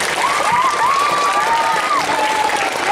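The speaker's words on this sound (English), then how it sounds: "Can we get a big round of applause" An audience applauds at a school reptile show, a dense, steady burst of clapping with a faint high whistle-like tone gliding over it, loud and sustained for the whole moment.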